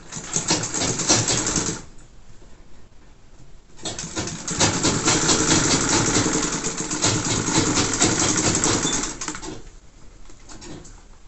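A sewing machine stitches Ankara fabric in bursts of steady mechanical whirring, with a pause near two seconds and a longer run from about four to nine seconds, close and fairly loud.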